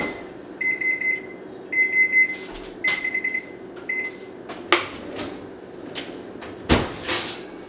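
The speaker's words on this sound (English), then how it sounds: "Oh, there's my timer." A kitchen timer beeps in four separated bursts of rapid electronic tones, followed by a couple of sharp clatters and knocks, set in a home kitchen while gelatin dishes and baked chimichangas are made.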